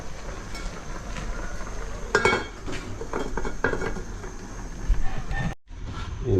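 A lid is set onto a cooking pot of frog tinola with papaya. Metal clinks and clatters ring out over a continuous background rumble, and a short burst of sharper rattling comes near the middle.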